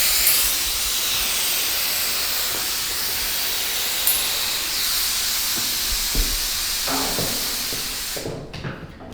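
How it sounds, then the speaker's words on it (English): Steady hiss of a spray gun misting activator across hydrographics film, continuous and close for most of the stretch before cutting off near the end, with a few light handling clicks. "we're going to spray this with correctly activated with just a little bit of difference in the spray pattern itself"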